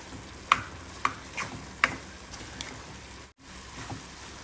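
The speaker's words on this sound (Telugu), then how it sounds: "ఈ పంచదార పాకం మొత్తం ఈ బ్రెడ్ స్లైసెస్ అబ్సార్బ్ చేసుకునే వరకు ఇలా కలుపుకుంటూ ఉడికించుకోవాలి" Bread slices cooking in sugar syrup in a pan, a soft bubbling sizzle under a few distinct spoon scrapes and taps as they are stirred, close and moderately quiet, no talk.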